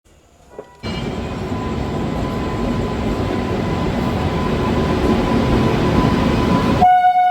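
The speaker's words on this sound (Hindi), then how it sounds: "गोमो शेड का WP7 आज इसे लेके आया है आनंद विहार से।" An express train hauled by a Gomoh shed WP7 locomotive rumbles through, a loud steady roar of wheels and cars that begins abruptly and keeps building, ending with a clear horn tone near the close.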